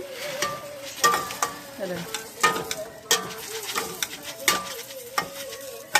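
Toor dal, tamarind and cumin frying in sesame oil in a pan, stirred with a ladle: steady sizzle with sharp, repeated scrapes and clanks every second or so, nearby, with birds cooing faintly in the background.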